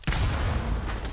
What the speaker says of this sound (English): Yep, that's gunfire.